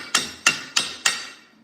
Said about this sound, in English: we can knock the slag off of it right here